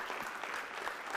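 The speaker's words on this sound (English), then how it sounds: "you can clap" Audience clapping at a gathering in Varanasi, a faint, distant, even patter of many hands sustained throughout.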